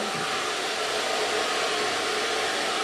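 A hair dryer blowing on curly hair, a loud, steady broadband whoosh that runs without a break for the whole few seconds, close to the listener, with no talking.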